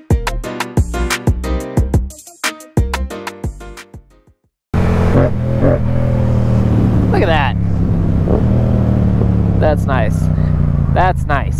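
Yamaha MT07 motorcycle riding on the road, a steady loud engine drone with wind rumble after a brief pause, preceded by choppy bursts of engine sound.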